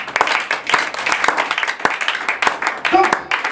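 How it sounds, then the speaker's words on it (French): Church congregation applauding the Lord during a French-language sermon, uneven, sparse clapping with distinct individual claps, voices and exclamations mixed in throughout. "Donnez une acclamation au Seigneur."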